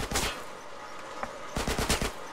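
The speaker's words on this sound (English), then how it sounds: "Where are they shooting?" Gunfire in GTA San Andreas: loud bursts of rapid shots, one cluster at the start and a denser volley near the end, separated by a quieter stretch.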